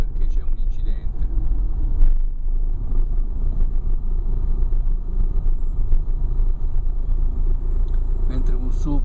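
Car engine idling in traffic blocked by an accident, a low steady rumble throughout with a brief louder swell, under a voice.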